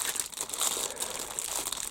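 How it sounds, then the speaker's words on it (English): A sealed plastic bag is opened up close with a continuous crinkling and rustling of plastic, loud and busy throughout, without talk. "I've never opened this bag before, I'm just opening it now"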